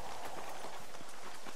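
Quick, light hoofbeats of a horse in the video game Red Dead Redemption patter along in a steady clip-clop rhythm, fairly soft and a bit distant, with no talking over them.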